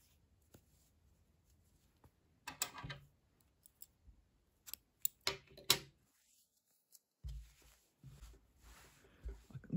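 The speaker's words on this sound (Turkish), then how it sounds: "İpliği burada kesiyorum." Scissors snipping pink crochet yarn, a few quiet, sharp clicks and cuts, brief and close, with soft handling noises between them.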